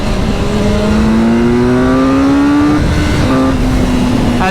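A brand-new BMW S1000R motorcycle accelerates hard, its loud engine pitch climbing steadily before abruptly cutting out at the electronic limiter, then briefly catching again near the end, recorded close with constant wind roar and no talk.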